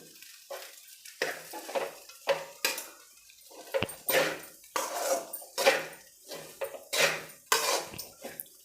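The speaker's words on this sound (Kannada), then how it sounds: "ಎಲ್ಲಾನು ಚೆನ್ನಾಗಿ ಮಿಕ್ಸ್ ಹೊಡೆದು ಆಗಿದೆ" Rice, coriander and salt being stirred into tomato bath in a pan: repeated scraping and clattering strokes of a spoon against the metal, in an uneven rhythm, close and fairly loud with quiet gaps between strokes.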